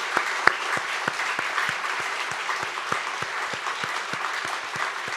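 Congregation at a New Year's Eve church worship service applauding steadily, a dense wash of many hands clapping with sharper individual claps standing out, sustained and even throughout.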